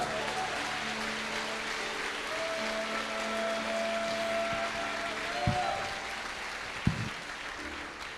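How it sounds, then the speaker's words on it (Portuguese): A church congregation applauds during an evening service, a soft, even wash of clapping that carries on steadily, with a few sharper thumps near the end. "Aplauda o Senhor aí no seu lugar."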